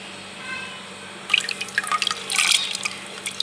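Soaked, washed moong dal tipped into water already filling a clay handi, cooked for dhaba-style yellow dal. After a quiet start, wet splashing and irregular watery patter break in and continue close by.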